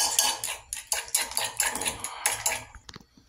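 Egg and corned beef scrambled in a pan, with quick metallic scrapes and taps of a utensil against the pan coming in close, busy bursts.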